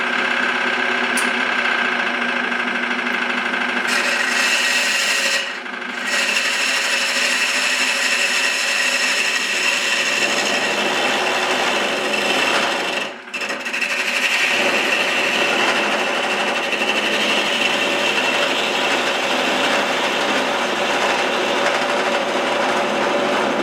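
A lathe turns red oak with a steady loud whir and grinding tool noise that carries on throughout, shifting tone partway as the cut changes.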